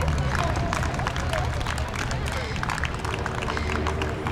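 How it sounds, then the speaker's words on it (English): Spectators clap and murmur as a runner finishes a men's 1600m race, a continuous busy patter of applause mixed with crowd babble at moderate loudness. "Big round of applause to Lockie O'Brien."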